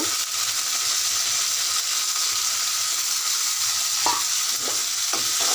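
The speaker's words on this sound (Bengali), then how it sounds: "এখন আমি চিংড়ি মাছটা দিয়ে দিব একটু লাল লাল করে ভাজা নেওয়ার জন্য" Shrimp frying in a pan with spices, a loud continuous hiss of hot oil close by, with a few soft knocks of a utensil near the end.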